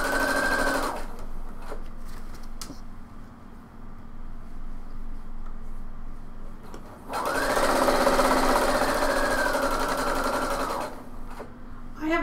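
A sewing machine stitches the side seams of a pair of pants, with two steady whirring runs, a short one at the start and a longer, louder one later, separated by quieter room sound.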